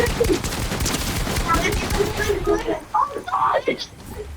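Rapid volleys of gunfire in the Unreal video game, loud and dense at first and then thinning into scattered shots, with someone talking over them.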